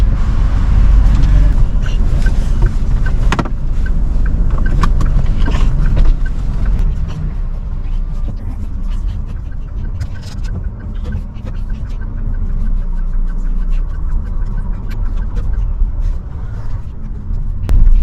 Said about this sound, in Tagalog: Etong sasakyan, dadalhin naman namin sa parking